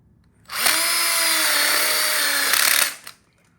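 A power drill drives a screw into a one-way coupler on a telescoping outdoor-kitchen grill module, one steady whine lasting about two seconds with a brief extra burst at the end, close and loud with no talk.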